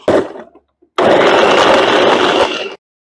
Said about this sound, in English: I was able to get 3 pounds of fish cut up and put into the, well, super awesome Ninja blender.